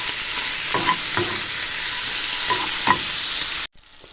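Meat pieces frying in a pan until golden, with a steady loud sizzle and a few scraping stirs before it cuts off abruptly.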